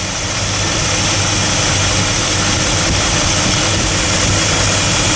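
A Dodge 318 V8 in a converted 4x4 Dodge Tradesman van runs with a misfiring cylinder, producing a loud, steady, close engine roar with no talking.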